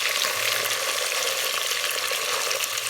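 Potatoes and onions frying in a pan give off a loud, dense, unbroken sizzle, close and constant throughout, with no talking over it.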